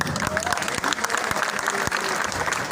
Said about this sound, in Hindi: तालियों में दम नहीं है भाई